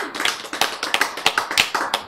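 A lecture audience claps in a quick, fairly loud rhythm of sharp hand claps, close and alone with no talking.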